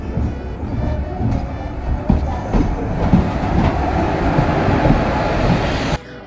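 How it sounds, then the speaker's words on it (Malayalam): A delayed train arrives at a railway station platform, its wheels rumbling and clacking loudly and continuously with scattered metallic clicks. The noise drops off abruptly near the end. "4:50 ട്രെയിൻ 5:30 മണിയൊക്കെയാണ് വന്നത്."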